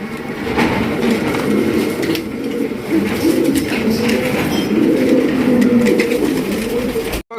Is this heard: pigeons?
yes